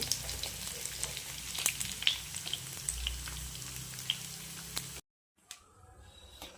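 Prawn pakodas coated in masala crackle and sizzle in hot oil, with scattered sharp pops over a steady hiss that cuts off abruptly near the end, leaving only faint clinks.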